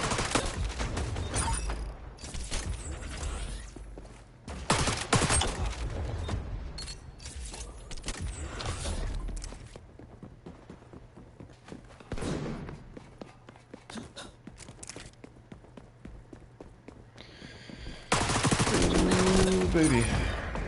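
Rapid gunfire in the shooter game XDefiant, with bursts of automatic fire and footsteps throughout, loud volleys near the start and a heavy burst at the end, while a player comments over the action.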